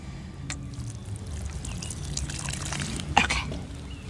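Water is poured onto freshly transplanted winter-sown radishes, making a faint, steady trickle and splash with a brief sharper splash near the end.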